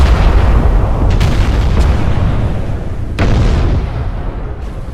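Battleship main guns firing in the naval video game Battleship Command aboard the Scharnhorst: heavy, loud booming salvos over a continuous low rumble, with a few sharp cracks cutting through the dense roar.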